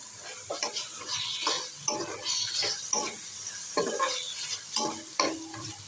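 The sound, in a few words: onions frying and being stirred in a pan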